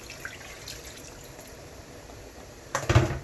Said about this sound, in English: Now I added some water to this container where I have my seasoning, and I'm going to pour it.